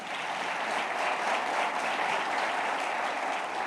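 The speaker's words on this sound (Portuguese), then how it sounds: "Você pode aplaudir a Cristo?" A church congregation applauds at a Sunday celebration service, a dense, steady wash of many hands clapping that carries evenly through the whole stretch with no voices on top.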